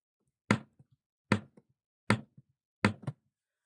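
Four evenly spaced, crisp knocks, each with a faint trailing tap, imitating a woodpecker pecking for a counting game in a kindergarten lesson, close and clear against silence.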